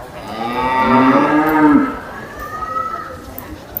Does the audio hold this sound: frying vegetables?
no